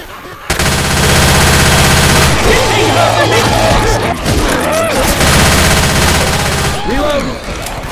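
Rapid automatic gunfire blasting at zombies in Left 4 Dead 2, loud and sustained bursts of shots with brief pauses, mixed with game sounds and occasional voices.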